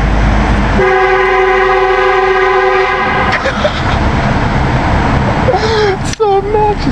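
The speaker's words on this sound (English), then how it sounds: "We're about to test Heath's new car horn." A new car horn is tested with a long, loud, sustained blare that holds for about two seconds and then cuts off, followed by voices and laughter close by.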